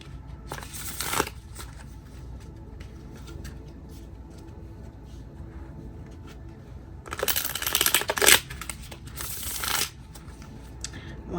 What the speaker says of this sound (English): I'm going to give the cards three quick shuffles